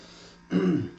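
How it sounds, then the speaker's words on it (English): A single short throat-clearing cough, close and fairly loud, after a moment of quiet room tone. "Sorry for the cough."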